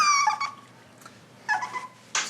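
Young puppy around two and a half months old whimpering in high, thin cries, a long whine at first then brief yelps and squeaks, fairly close in a quiet room.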